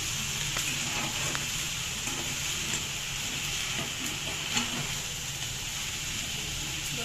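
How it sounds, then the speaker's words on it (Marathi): Food sautéing in a pan with ghee for a Marathi home dish, a faint steady hiss and sizzle with occasional light scraping taps of stirring, no talking. "असा भाग हा सगळं परतून घ्यायचा आहे"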